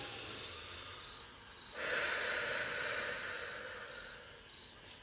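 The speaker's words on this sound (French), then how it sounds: "Prenez une profonde respiration." A slow, deep breath at the close of a yoga nidra relaxation session. The airy inhale swells suddenly, then eases into a long, soft exhale that fades gently. It is close and quiet, with no talk over it.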